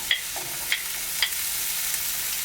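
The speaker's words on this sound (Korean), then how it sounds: "불을 약하게 해서 팬을 달군 다음에 버터를 녹이고 양파를 볶을게요." Onions fry in melted butter in a pan over low heat, a steady soft sizzle with a few light clicks of stirring near the start.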